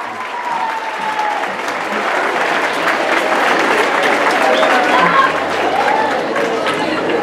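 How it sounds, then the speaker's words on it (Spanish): An audience applauds at a secondary technical school event, a full, sustained round of many hands clapping that holds steady for several seconds, with faint crowd murmur underneath. "Un fuerte aplauso, por favor."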